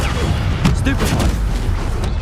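A Stupefy spell cast in the video game Hogwarts Legacy lands as a short, loud boom-like burst over a dense, constant backdrop of game effects and music, with a voice speaking in the mix.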